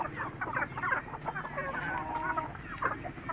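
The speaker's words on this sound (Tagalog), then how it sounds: "yun po yung aking mga manok, matataba" Several chickens cluck and chatter continuously, close by, with overlapping calls from a busy flock.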